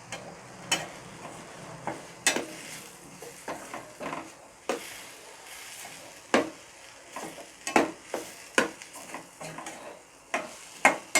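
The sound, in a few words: stirring masala into frying crab gravy in pan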